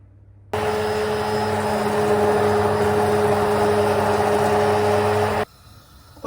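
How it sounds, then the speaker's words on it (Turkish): Loud, steady whirring motor of a blender puréeing lentil soup for about five seconds, starting and stopping abruptly. "Şimdi blender ile çırpacağım."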